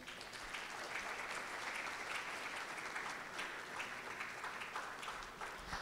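An audience at the TWEEK 2025 event gives a round of applause: a dense, even roar of many hands clapping, steady and sustained from start to finish, moderately distant and without any voices rising above it.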